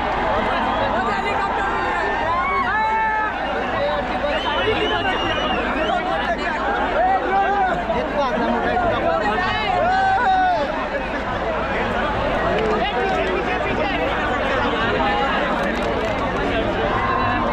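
Large crowd chattering and calling out at the 2024 India T20 World Cup victory parade on Mumbai's Marine Drive, a thick continuous babble of voices with occasional shouts rising above it.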